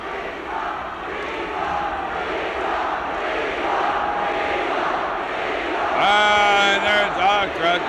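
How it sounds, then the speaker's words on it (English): A live pro wrestling crowd at a Bobby Heenan versus Lord Alfred Hayes match keeps up a steady rolling roar of chanting and cheering, with a commentator talking over it and a louder swell of voices near the end. "The crowd's got a chant going for Lord Hayes."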